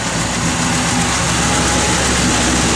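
A 1969 Chevrolet Chevelle SS engine runs at a steady idle, a loud, close, continuous low rumble with no voices over it.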